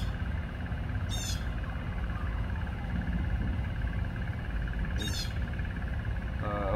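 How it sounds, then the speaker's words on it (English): Harsh, repeated bird calls from a noisy bird, two short bursts at the start and midway and a final one at the end, over a steady, loud background hiss and low rumble. "we're gonna be joined today by a very obnoxious bird"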